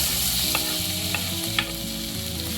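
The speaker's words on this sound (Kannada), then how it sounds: "ಟೊಮೆಟೊ ಇದು ಹಸಿ ವಾಸನೆ ಹೋಗೋ ತನಕ ಅದನ್ನು ಫ್ರೈ ಮಾಡೋಣ, ರೋಸ್ಟ್ ಮಾಡೋಣ." Tomatoes and capsicum fry in a pan with a steady, close sizzle while a spoon stirs and taps against the pan a few times, with no talk.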